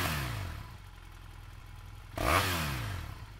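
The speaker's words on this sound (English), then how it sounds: "rev the bike as before" A BMW F650/F700/F800 parallel-twin motorcycle engine settles down from a rev to a steady idle, then is revved again in a quick, loud burst that falls away toward idle.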